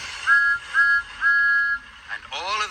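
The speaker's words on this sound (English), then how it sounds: "He blew his whistle" A steam engine's whistle blows in three short, clear toots followed by a longer blast, loud and close, with a brief voice-like sound at the end.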